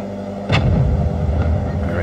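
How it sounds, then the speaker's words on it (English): A game show bridge challenge, with a sudden cannon blast at about half a second followed by a rumbling, noisy stretch, while background voices and commotion continue beneath. "Relentless cannon fire today."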